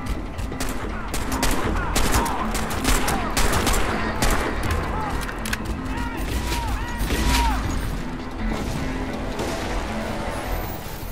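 Gunfire from the video game Crysis 2, dense and busy with bursts of shots and explosive cracks running throughout under a steady game soundscape, with speech-like sounds mixed in.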